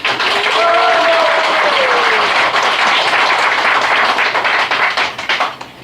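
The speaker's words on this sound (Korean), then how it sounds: "다시 한번 뜨거운 박수를 부탁드립니다." Steady applause from a crowd at a hiking club's inauguration ceremony, sustained and loud throughout, with a brief whistle-like tone early on before the clapping thins slightly at the end.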